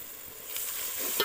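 Onion and ginger sizzle in hot oil in a pan while chicken is being cooked, a steady close crackling hiss that swells slightly toward the end.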